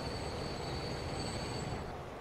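A train in the Transport Fever video game, loaded with logs, rolls along with a steady broadband rumble and a thin high squeal of wheels, continuous and close throughout.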